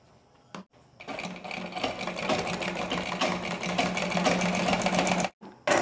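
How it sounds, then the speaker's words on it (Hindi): A sewing machine stitching a fabric strip onto a small zip pouch, running in a fast, steady mechanical chatter for about four seconds after a brief start, then stopping; close and loud. "उस स्ट्रिप्स को इस तरीके से रखते हुए यहाँ पर सिलाई लगा"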